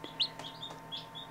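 Newly hatched chicks, some from Dominique hens, giving a few faint, high, short peeps scattered over a quiet moment.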